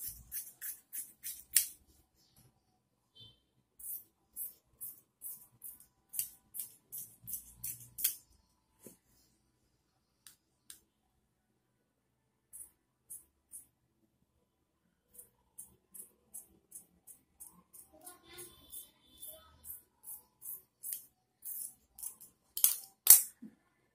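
Scissors snip through blouse fabric in short bursts of crisp, quiet cuts, heard close and alone, with pauses between runs of snips.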